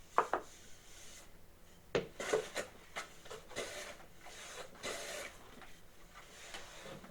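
A blade shaves wood on a board in a series of close, dry scraping strokes with soft taps between them, irregular in rhythm and quiet.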